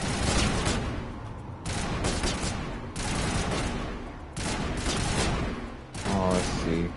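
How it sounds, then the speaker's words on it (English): Mass Effect 1 combat on PS4: dense, continuous rapid gunfire bursts in close succession with booming impacts, loud throughout with brief lulls and a voice briefly audible near the end. "What are they shooting at? What are you shooting?"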